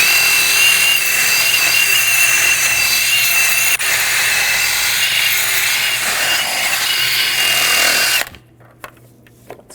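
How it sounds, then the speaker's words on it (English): A wire brush scours rust and corrosion off the rear hub of a 2001-2009 Volvo S60 during a brake replacement, a loud, steady, harsh scraping that runs for about eight seconds and then cuts off, leaving a few faint knocks. "Now I'm going to take a wire brush. We're going to clean up the corrosion and rust buildup on the hub surface."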